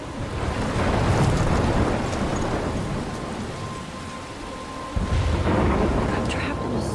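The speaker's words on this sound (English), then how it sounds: "I'm trapped in a storm?" A thunderstorm in the video game Life Is Strange rumbles with heavy, steady rain and rolling thunder, swelling loud in bursts around a constant downpour.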